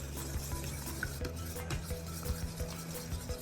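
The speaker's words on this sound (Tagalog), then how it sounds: "So, ang gagawin ko ay pag-ahaluin ko na mga ingredients like soya sauce." Lumpia Shanghai filling being stirred with soy sauce in a bowl, a soft repeated scraping and faint clinking of a utensil, close and quiet, with no talk.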